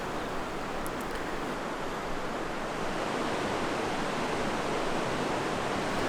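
A steady, dense rush of flowing water, like a river running nearby, continuous and even throughout with no voices.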